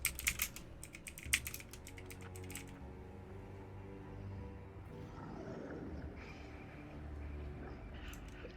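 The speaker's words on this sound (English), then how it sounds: "I am typing." Quick, light typing on a computer keyboard during a tabletop role-playing game session, a burst of rapid clicks at the start before the keys fall quiet under a faint steady room hum.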